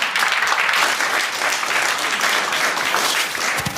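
Audience applause at a conference event, a dense steady clapping from a sizeable crowd that carries on for several seconds without talk.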